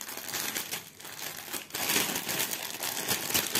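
Plastic wrapping on a cross-stitch kit package crinkles and rustles continuously as it is opened by hand, a steady close crackle that grows a bit louder halfway through.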